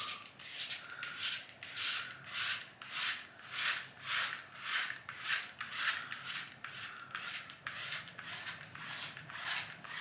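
A five-blade cartridge razor scrapes across a shaved scalp in steady, evenly spaced strokes, roughly two per second, close and crisp with no talking.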